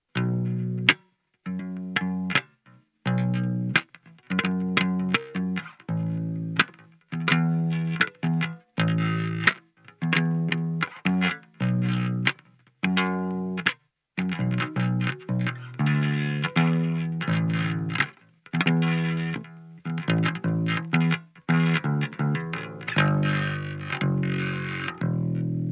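A Neural DSP Parallax X plugin applies a lo-fi distortion effect to choppy, stop-start riffs, giving a gritty, fuzzy tone with a slight chorus-like shimmer over about twenty-five seconds, with no talking.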